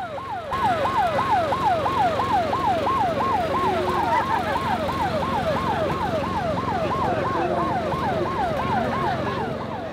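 Wailing emergency vehicle sirens from fire and rescue units passing in a Beef Week street parade in Casino, Australia, rising and falling in a steady rapid cycle, loud and continuous over street noise throughout.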